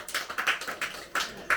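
A church congregation claps in a quick uneven run of sharp bright claps during a sermon, several distinct bursts close together, with no voices.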